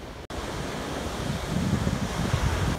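Sea waves wash against a rocky shore while sea wind blows across the microphone, a steady broad rush with low rumbling swells that grow louder toward the end.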